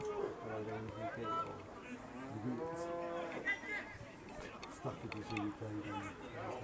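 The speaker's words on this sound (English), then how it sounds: "I think someone's doing a really good cow impression over there." Someone at a football match between Lichfield City and Coventry United does a cow impression, a drawn-out mooing voice rising over the crowd chatter and talk around the ground, fairly distant and faint.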